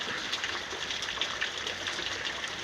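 Heavy spring rain pours down in a storm with hail, a steady dense hiss of water with scattered patters and gushes, moderately faint and continuous, with no voices.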